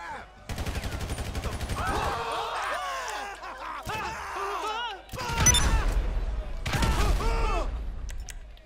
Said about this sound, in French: Et là, en fait, vous pouvez sortir votre arme.